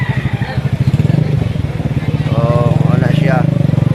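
A motorcycle engine idles with a steady throbbing putter while crossing a river with a strong current, close and loud, with a brief rising whine partway through.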